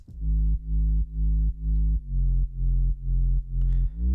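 A simple sub bass line played solo in Ableton: deep, smooth synth notes repeat in a steady, even rhythm about twice a second, loud and alone with no other instruments.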